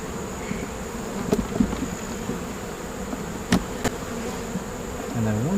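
A honeybee colony building odd, irregular comb buzzes steadily in an open hive, with a constant drone and a few sharp knocks and clicks from handling frames.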